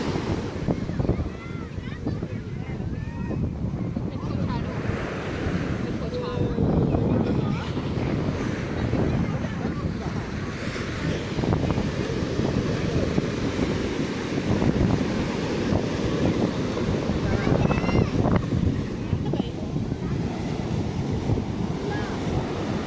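Rough sea surf pounds a beach in a continuous heavy roar with surging swells, and strong wind buffets the microphone throughout.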